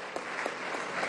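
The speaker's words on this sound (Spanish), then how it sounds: "le damos un aplauso a través de estas ventanitas" Campaign team members from across the country applaud over a video call, a steady short burst of remote clapping that sounds thin and compressed, with no talk over it.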